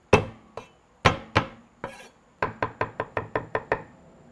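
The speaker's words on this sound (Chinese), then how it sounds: "再剁点蒜泥，" A cleaver minces garlic into paste on a cutting board with sharp, close, ringing knocks, a few spaced strikes followed by a quick even run of about ten blows.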